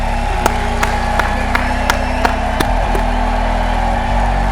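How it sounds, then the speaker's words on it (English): About eight sharp, evenly spaced hand claps, like one person clapping in a steady rhythm, ring out over a low humming background and then stop. "Clap it up for y'all real quick, man."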